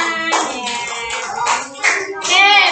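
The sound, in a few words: children clapping hands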